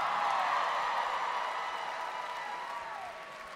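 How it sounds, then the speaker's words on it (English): A comedy show crowd in Wisconsin applauds in a dense, steady wash of clapping with a few whoops, loud at first and slowly fading over several seconds, with no talking on top. "Oh, you're applauding that"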